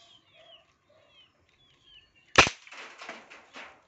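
One sharp, loud pop from a PVC toy gun rings out midway, followed by a brief rattling echo; faint bird chirps sound beforehand.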